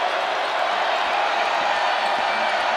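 Steady, dense crowd roar filling a women's college basketball arena during a tied game between Virginia Tech and Notre Dame, continuous and even with no distinct peaks.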